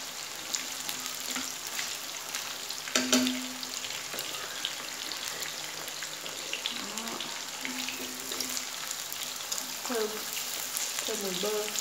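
Potatoes fry in butter in a pan with a steady, close sizzle and scattered spatters, including a sharper pop early on. Faint voices surface now and then beneath the frying.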